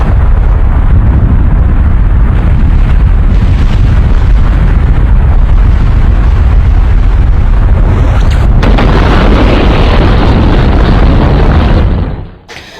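A massive volcanic eruption of Krakatau, rendered as a loud, sustained roaring blast with dense low rumble that swells and holds for about twelve seconds, then cuts off abruptly, with no voices.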